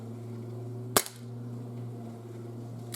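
One sharp crack of a Sig Sauer P226 CO2 pellet pistol firing with blowback action, loud and close over a steady low electrical hum, with no talk.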